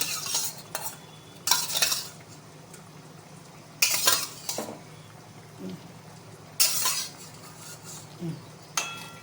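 Fried snakehead fish is stirred into a simmering jackfruit curry, with about half a dozen distinct spoon-against-pot scrapes and clatters spaced a few seconds apart over a quiet background.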